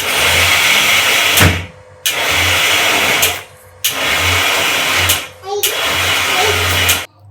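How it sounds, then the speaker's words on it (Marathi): A mixer grinder whirring loudly in short bursts while coarsely grinding soaked lentils, switched on and off about four times with brief pauses between pulses. "भरड काढताना मिक्सर असं कमी जास्त करायचा, म्हणजे सुरू बंद असं करायचं"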